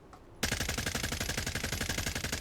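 Rapid automatic fire from the FSS Hurricane rifle in a Fallout 4 mod, a loud, steady stream of closely spaced shots that starts abruptly after a brief quiet moment and continues without a break.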